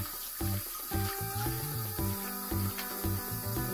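Tap water runs steadily into a sink while Welsh Corgi Cardigan puppies are bathed, a continuous close splashing rush with small rubbing and handling sounds over it.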